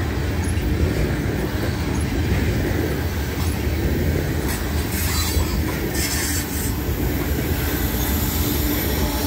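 A freight train led by an ES44AA locomotive, number 3060, rolls past close by with a continuous loud rumble of wagons and wheels, broken by high, intermittent wheel squeals.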